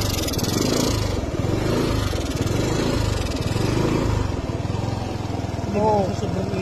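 Kymco Racing King 180 scooter engine idling steadily at close range, a continuous low rumbling drone with a constant pulse throughout, no clear revving.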